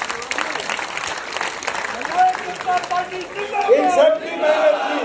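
Dense, sustained applause from a large audience at an outdoor political rally for a foundation day event, a steady wash of clapping with crowd voices and a few shouts rising toward the end.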